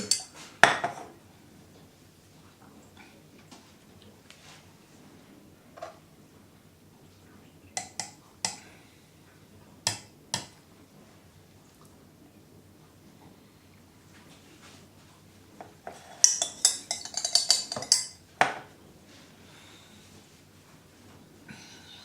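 A spoon is washed, with scattered light clinks and taps of cutlery and dishes and a short run of running water near the end, close by in a quiet room.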